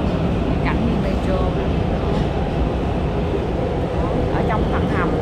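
Metro train running through an underground tunnel between Maryland and Virginia, a steady loud rumble with constant roar throughout and brief squeals of wheels, voices faintly in the background.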